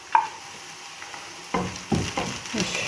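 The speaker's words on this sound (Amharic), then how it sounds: "እሺ ሽንኩርቱ ይሄ ጠበስ እያለልኝ ነው።" Onions fry in oil in a pan, a soft, steady sizzle broken by several sharper bursts of stirring and scraping, close by, with no talking.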